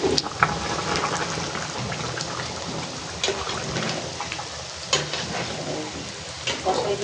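Meat browning and stirring in a home kitchen pan, a steady close sizzle with scraping stir noises and occasional spatter, running continuously with no talk.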